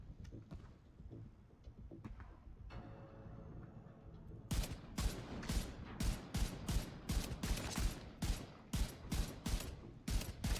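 Gunfire from a Vindicator build in The Division 2 video game: muted rumbling and scattered pops at first, then a sustained loud volley of rapid, evenly spaced shots over the second half.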